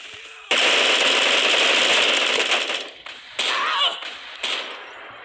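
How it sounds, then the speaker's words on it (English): Rapid automatic gunfire from the player's own weapon in the Bullet Force shooter game, a loud sustained burst followed by a few shorter bursts, with no talk. "Why did I just shoot my own gun?"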